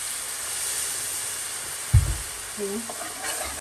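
Water poured into a pan of butter and toasted flour while making a chicken piccata mushroom sauce hits with a sudden splash, over a steady bright sizzle that continues throughout, with brief stirring scrapes.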